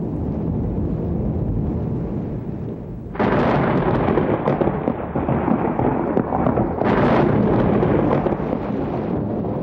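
Deep rumbling thunder rolls continuously with heavy storm noise and pelting rain in a swamp, swelling louder partway through and again near the end, with no voices.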